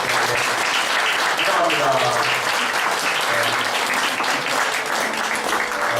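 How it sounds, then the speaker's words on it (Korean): Church congregation applauding first-time visitors during a Sunday service: dense, steady clapping fills the whole stretch at close range, with voices talking underneath. "박수 한번 보내드리도록 하겠습니다"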